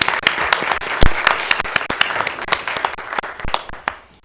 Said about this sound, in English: So if we can give them a hearty round of applause.